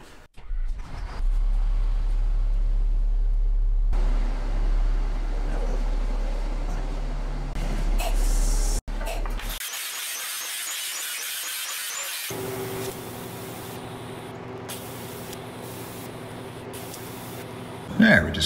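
Angle grinder working along the clamped end of steel stock while building a floor on a roof rack for an LMTV truck, a loud harsh whine and abrasive rasp that cuts off and restarts, with someone talking at times.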